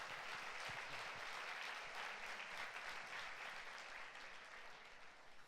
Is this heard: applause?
yes